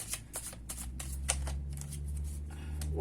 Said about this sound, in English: let's go ahead and give everything a good shuffle